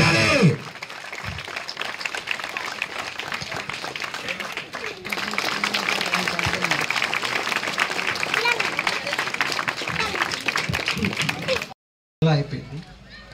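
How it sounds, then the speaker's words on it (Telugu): An audience at a felicitation during a volleyball tournament and medical camp claps in sustained, dense applause lasting several seconds, with voices over the start and a short break near the end. "అందరూ చప్పట్లు కొట్టాలి."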